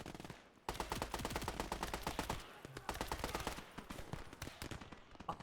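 Rapid machine gun fire from a half-track in the World War II game Gates of Hell, long loud bursts of fast repeated shots with a short pause, no talk.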